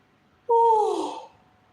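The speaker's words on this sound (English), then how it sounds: "I just yawned." A person gives a single long yawn, a voiced exhalation starting abruptly and gliding down before fading, close and alone.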